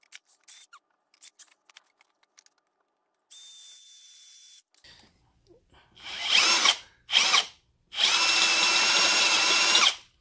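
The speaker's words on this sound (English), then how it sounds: "It's just shredding the metal." A drill grinds loudly into metal in several harsh bursts, the last one long and sustained, after scattered clicks and a brief high whine.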